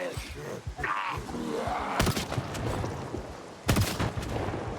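Two sharp gunshot blasts crack out in the zombie survival game Project Zomboid, one near the middle and one near the end, over a busy background of game noise and a talking voice.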